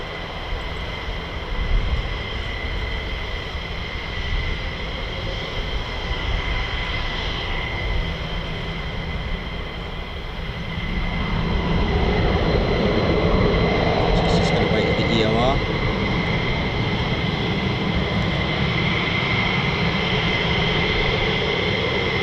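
A USAF F-15E Strike Eagle or F-35A jet comes in to land at RAF Lakenheath with a broad, steady roar that swells to a louder, nearer rumble around the midpoint and holds for the rest of the twenty seconds.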